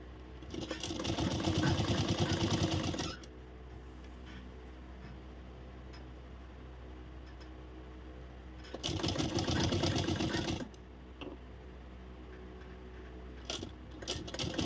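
A sewing machine stitches a coat collar blouse in two loud, rapid bursts of whirring, each lasting a couple of seconds and separated by a long quiet pause, then brief clicks and a short restart at the end.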